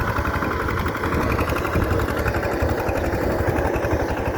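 A small diesel engine of an ACI 28 power tiller ploughing a field runs steadily nearby, a loud, continuous rhythmic chugging and rattle with no pauses.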